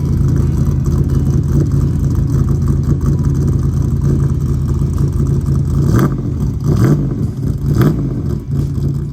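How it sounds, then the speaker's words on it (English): A Chevrolet Camaro engine with a new ATM carburetor runs steadily at idle, a low continuous rumble with a few brief revs near the end, loud and close. "this thing sounds really good sitting there idling"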